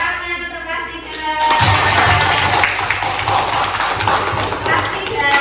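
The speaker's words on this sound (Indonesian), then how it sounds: "Tepuk tangan untuk kelas 3." Classroom of third-grade children at an Indonesian school clapping together after a song, a dense rhythmic patter of many small hands with thumping, fairly loud and close, with voices mixed in.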